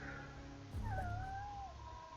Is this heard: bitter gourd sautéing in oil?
no